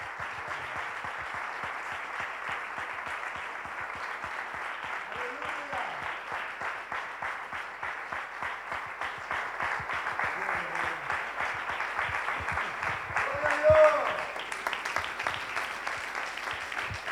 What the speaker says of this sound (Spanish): Dale ese aplauso de victoria al Señor